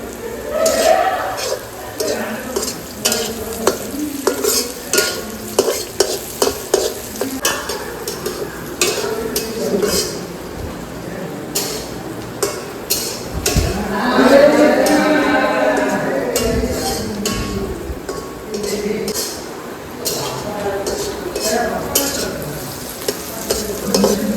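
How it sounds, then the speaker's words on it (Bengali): Carrots and beans frying in ghee for fried rice at an outdoor night picnic, a continuous sizzle broken by repeated stirring scrapes and clinks of a pan, with a voice briefly in the background. "সব ফ্রাইড রাইসের জন্য এই গাজর বিনস ঘি দিয়ে ভাজছি এখন"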